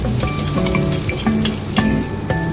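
Onion and garlic frying in a little oil, a loud close sizzle with clattering stirring strokes of a spatula against the pan, no voices.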